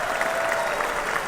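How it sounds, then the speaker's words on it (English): A crowd gives a brief, loud burst of applause for guitarist Buck Dharma of Blue Oyster Cult, a continuous mass of clapping hands. "an enormous round of applause for Buck"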